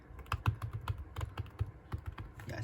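Keys clack rapidly on a keyboard for an iPad. Quick, uneven keystrokes sound close and clear, with no talk.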